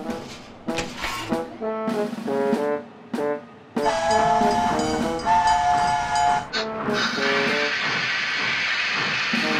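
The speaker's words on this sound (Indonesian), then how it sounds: "Kereta siap berangkat." A train pulls away with loud horn blasts, a sustained whistle tone and the rising rumble of the engine getting underway, close and prominent.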